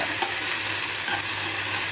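Ginger-garlic paste fries in a hot pan with a dense, close sizzle and brief stirring scrapes, loud and continuous over a short stretch.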